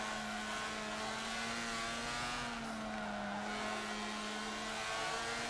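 A Mazda RX-7 race car in the Forza Motorsport 7 racing game holds a steady, loud engine drone through a pair of corners, with a continuous buzzing tone and no voices.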